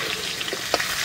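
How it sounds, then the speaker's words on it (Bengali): Mango pieces sizzle and fry in hot oil with a bay leaf and dried red chili tempering, with a brief scrape of stirring near the end of a short, steady, close sizzle. "গরম তেলে আমগুলো একটু ভালো করে নেড়ে নেব"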